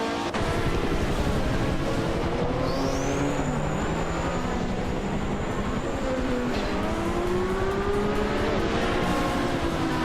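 A 1982 Ford Mustang Z-Speed race car engine drones steadily in a racing video game, a continuous loud engine note with rising and falling pitch sweeps throughout, no talking.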